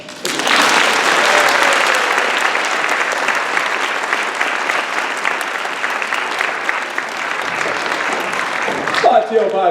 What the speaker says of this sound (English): If you enjoyed that story, clap for it.